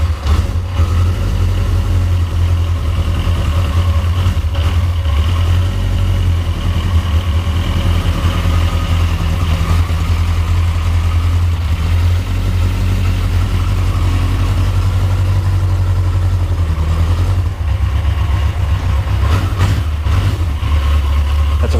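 A Yamaha XJ900F motorcycle engine idles steadily and loud up close after being started, a deep continuous rumble with an even throb and no talking over it.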